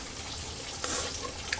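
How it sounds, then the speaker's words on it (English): Water pouring and draining through a small strainer into a bowl, a short steady splashing trickle with a brief louder gush near the end. "I'm just going to take it and I'm going to drain the water off."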